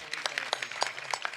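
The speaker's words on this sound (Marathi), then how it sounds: "त्याच्यासाठी टाळ्या वाजवा." Brief, fairly faint applause from a kirtan audience during a Datta Jayanti programme, with scattered uneven claps for a moment and no talk over it.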